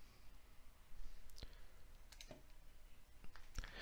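Computer mouse clicking on a Windows 11 PC, several faint, sharp, isolated clicks spaced irregularly over quiet room noise, with no talk.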